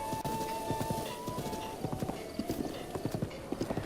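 Horse hooves clip-clop at a steady trot in Zelda: Breath of the Wild, with a brief whinny near the start, fairly close and continuous throughout.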